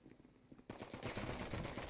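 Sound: gunfire in a video game roleplay shootout

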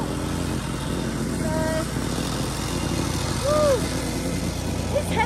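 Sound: whacker plate compacting gravel

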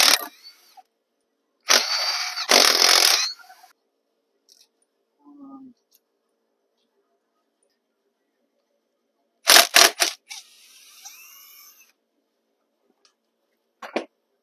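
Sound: tools removing crankcase bolts on Suzuki quad

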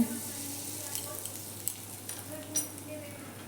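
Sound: asafoetida sizzling in hot oil in a wok

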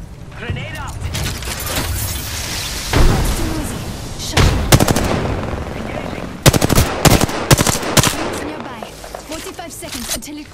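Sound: gunfire and grenade in a video game firefight

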